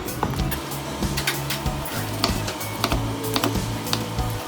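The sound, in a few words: knife cutting into tender pork belly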